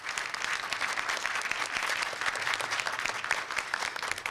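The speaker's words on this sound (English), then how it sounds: "So how about a round of applause to our panelists?" An audience at an immigration forum applauds the panelists, a steady wash of many hands clapping at moderate volume from a crowd in a hall, continuous throughout.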